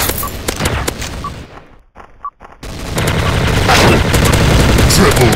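TMP submachine gun fire rattles through a Special Ops video game match at Deluxe Fest. Loud rapid bursts break off into a brief near-silence, then resume as sustained, dense automatic fire.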